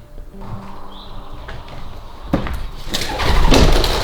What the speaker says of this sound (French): Un pigeon.